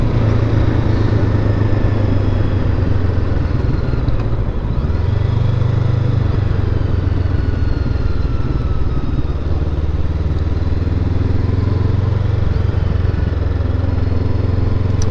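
A Honda CBR500R motorcycle engine runs steadily and loudly throughout, its low rumble rising and falling slightly as the throttle changes, with noticeable engine braking when the throttle closes, and no talking.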